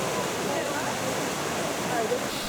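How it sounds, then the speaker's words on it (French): Steady rushing of flowing water, close and continuous, like small cascades splashing over rocks. "C'est des petites cascades qu'on suit tout le temps sur des petits ponts"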